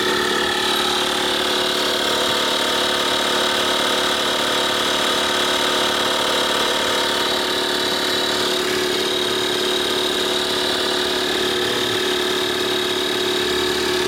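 A portable 12V DC air pump runs steadily while inflating a car tire, giving a constant close mechanical drone with a high whine and a steady hum that never lets up, with no talking.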